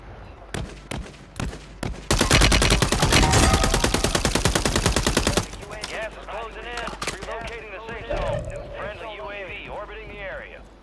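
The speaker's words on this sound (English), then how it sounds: "Oh, they trying to shoot at us." Video game gunfire from a Call of Duty match: a few sharp single shots, then a sustained loud burst of rapid automatic fire, followed by scattered shots under excited voices talking over the action.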